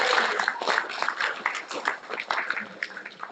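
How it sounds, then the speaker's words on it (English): Audience applauding at a program evaluation gathering, a close, uneven patter of hand claps that stays fairly loud throughout and thins slightly toward the end. "I'm going to ask for a big applause."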